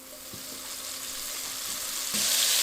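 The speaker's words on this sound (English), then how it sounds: "Go ahead and place your burner on a medium heat and add your butter." Butter melts in a pan on a burner at medium heat, producing a soft, steady sizzle that grows slightly louder toward the end, with a couple of faint knocks and no talking.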